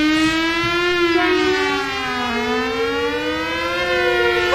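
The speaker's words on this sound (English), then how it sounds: "in about half an hour, you'll hear a siren" A loud wailing siren rises and falls steadily, its pitch sweeping in long slow arcs, continuous with no talking.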